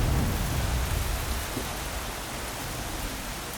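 Rain falling at an outback Australian homestead, a steady, even hiss of drops on surfaces with a low rumble underneath and no talking.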